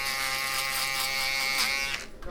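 Electric foil shaver buzzing steadily through a skin fade at the zero line, a close, continuous high whine that holds for about two seconds and then cuts out.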